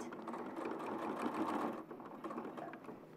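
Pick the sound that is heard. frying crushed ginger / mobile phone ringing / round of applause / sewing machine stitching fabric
sewing machine stitching fabric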